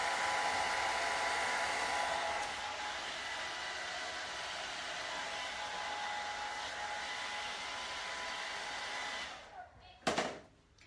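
A hair dryer blow-dries curly hair with a loud, steady whooshing hiss for about nine seconds, then clicks off and leaves a few brief handling knocks.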